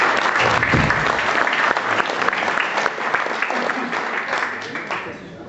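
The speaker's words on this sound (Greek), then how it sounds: "Ένα χειροκρότημα στους αδελφούς μας." An audience at a school alumni golden-anniversary reunion breaks into applause for fellow classmates, a dense burst of clapping that gradually thins and softens toward the end, with some voices underneath.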